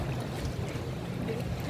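A boat carries passengers on indoor water inside a shopping mall, with a steady, low rumbling drone throughout.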